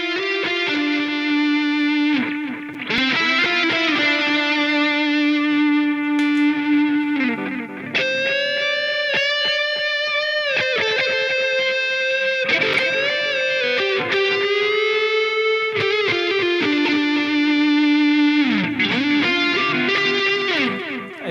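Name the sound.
PRS NF3 electric guitar with effects and distortion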